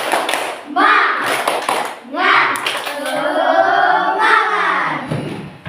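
Schoolchildren perform the rhythmic 'tepuk semangat' spirit clap in a school gathering, loud and close, with bursts of patterned clapping mixed with chanting young voices.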